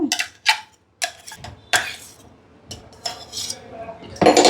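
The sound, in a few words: whisking pakora batter in a bowl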